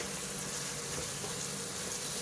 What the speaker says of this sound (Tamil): ஒரு 2 நிமிஷம் நல்லா வதக்கிக்கலாம்.